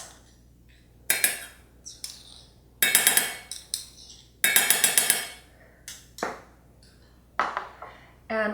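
A spoon clinks and scrapes against a container while neem oil is scooped in, giving repeated bright metallic taps in short bursts with quiet gaps between them.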